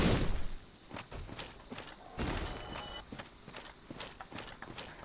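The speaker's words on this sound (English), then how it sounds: "even the sound of our footsteps, and you can see our rolls are a little bit heavier" Heavy footsteps of a character in Astoran armor in the video game Dark Souls, a series of thudding, clattering steps at a steady pace, fairly close and moderately loud, with no talking over them.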